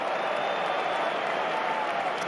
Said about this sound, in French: très applaudi Karleman pour sa sortie